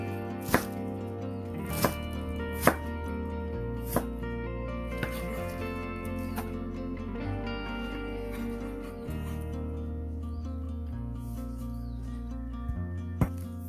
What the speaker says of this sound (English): Cut into quarter, remove the core, then loosen the petals, loosen the leaves